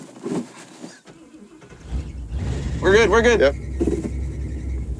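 Worn-out beater rally car engine firing back up and settling into a steady low idle rumble, with people talking briefly over it.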